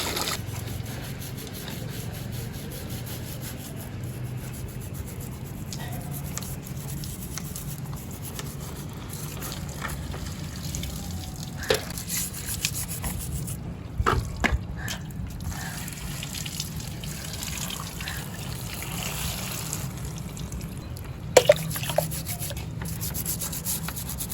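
Window blinds being scrubbed and washed with water, a continuous close rubbing and swishing with occasional sharp knocks and clatters, no voices.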